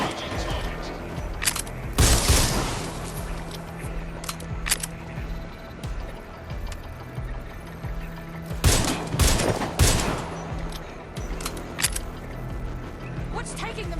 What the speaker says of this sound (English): Oh, being shot at here!